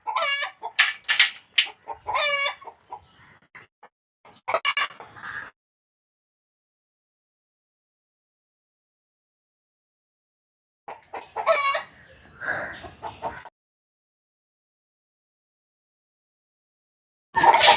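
Chickens cluck in short bursts near the start and again around the middle, with long quiet gaps between, at a homestead where greens are being chopped for the birds.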